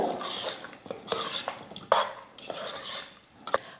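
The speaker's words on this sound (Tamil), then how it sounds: "வறுத்த முந்திரி பருப்பு நெய்யெல்லாம் சக்கரை பொங்கலில் சேர்த்துக்கலாம் எல்லாம் சேர்த்து நல்லா கலந்து விட்டுடுங்க" A spoon stirs roasted cashews, raisins and ghee into sweet pongal in a metal pot, with repeated scraping and clinking strokes at an irregular pace, close and moderately loud with no talk.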